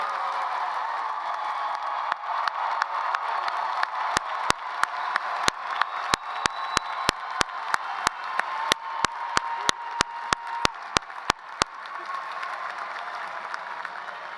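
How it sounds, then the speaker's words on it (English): A crowd at a graduation ceremony claps steadily, sharp individual claps standing out over a dense wash of applause that continues throughout. "please join me in giving our graduates one last round of applause"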